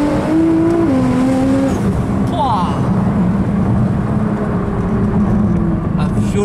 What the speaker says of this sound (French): Mec, c'est d'une violence l'accélération.